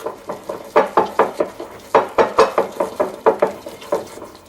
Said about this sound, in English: add 1 tablespoon of eggnog. And just give this a good stir